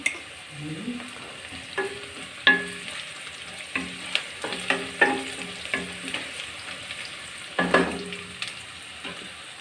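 Curry leaves, green chillies, onion and turmeric crackle and sizzle in hot oil as tempering, with a series of sharp pops and spatters coming in irregular bursts, close and clear.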